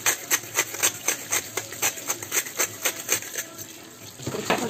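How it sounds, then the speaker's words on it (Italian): Salt is sprinkled over antipasti with olives and oregano, making a quick, even run of light ticking pattering close up, slowing slightly near the end. "Spruzzata di sale,"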